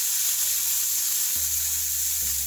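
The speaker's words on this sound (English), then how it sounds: "I'm just gonna put my ribs onto the grill." Steady, bright sizzling from ribs cooking on a hot grill, a continuous crackling hiss with a low hum beneath.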